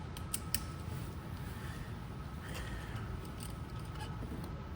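A sewing machine stitches a shirt collar with a quiet, steady mechanical whir and faint creaking clicks, running evenly with no talking.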